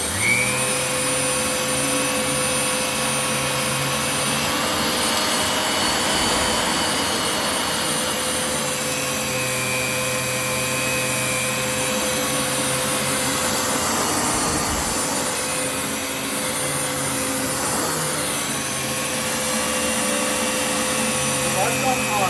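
Riccar R30D vacuum cleaner running steadily on high mode, a loud continuous motor whine and airflow roar with a stable tonal hum throughout, briefly dipping partway before resuming.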